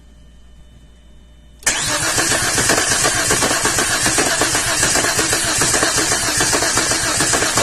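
A 2004 Chevrolet Epica engine with a compression problem cranks steadily after a brief quiet start, a loud, continuous churning drone with an uneven rhythm, close to the microphone. A voice speaks one short word just before the cranking begins.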